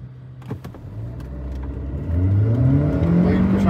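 A Hyundai Creta turbo and a Skoda Kushaq turbo rev hard in a drag race, the engine note climbing steadily in pitch and growing louder and nearer through the second half.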